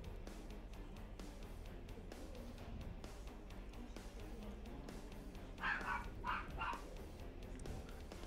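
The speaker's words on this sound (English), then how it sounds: "figure out what the heck those dogs are barking with" Dogs bark faintly in the distance, a short cluster of yips and barks partway through, set under a steady background of noise.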